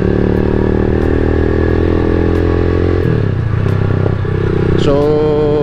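A Rusi Classic 250 motorcycle engine runs at a steady idle, loud and close, with a constant low drone and light mechanical clatter, and the pitch shifts toward the end.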